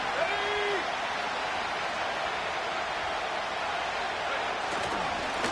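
A football stadium crowd roars on third down, a broad continuous wash of cheering and noise from a large audience, steady and loud throughout.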